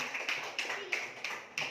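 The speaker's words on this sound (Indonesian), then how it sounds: "Bagus, tepuk tangan untuk Jordan." A class of pupils claps for a classmate in quick rhythmic bursts of group applause, roughly five claps spread evenly, close and fairly loud, with no talking.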